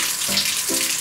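Very hot water running steadily from a shower as a loud, continuous broadband hiss, close to the listener, with two faint brief tonal sounds underneath and no speech.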